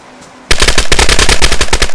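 Loud, close automatic gunfire in the video game DayZ bursts in suddenly, a fast string of about a dozen sharp shots in rapid rhythm after a quiet moment.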